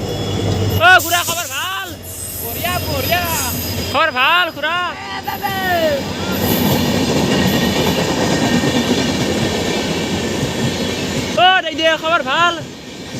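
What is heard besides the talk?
train passing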